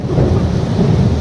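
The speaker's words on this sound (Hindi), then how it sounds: "तो यहाँ काफी मूसलाधार बारिश हो रही है" Heavy downpour with rumbling thunder on a flooding street, a dense steady roar of rain and low thunder filling the whole short stretch with no voices.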